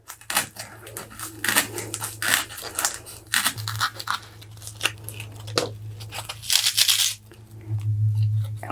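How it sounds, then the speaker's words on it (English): A craft knife trims a styrofoam ball, giving a run of close, dry scraping and crunching cuts in short uneven strokes with brief pauses, and a low steady hum underneath. "just trim a little bit more with your craft knife"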